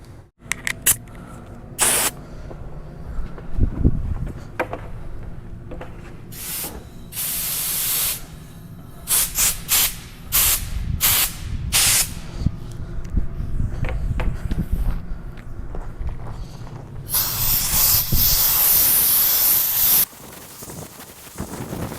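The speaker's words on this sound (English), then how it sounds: "Kevin got the air filter blowed out." Compressed air blasts out the air filter of a Cat 563D vibratory roller compactor, loud hissing spray bursts in short irregular pulses and a longer sustained blast near the end, with shop footsteps and clatter between.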